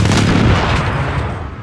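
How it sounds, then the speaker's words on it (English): Precision airstrike explosions in a video game hit as a dense, loud burst of rumbling booms and blasts, continuous and close for the whole moment. "Enemy precision airstrike. Take cover."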